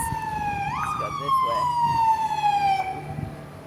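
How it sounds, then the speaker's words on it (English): An ambulance siren wails on a busy, bumpy street, a loud, close, steadily descending tone over traffic noise, with a brief warble partway through. "it might get a little bit noisy as I see a ambulance"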